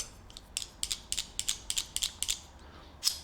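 The adjuster mechanism of a Handee clamp tool, a long-reach vise-grip-style clamp, gives a series of crisp ratcheting clicks, close and fairly quiet, in an uneven rhythm with no talk.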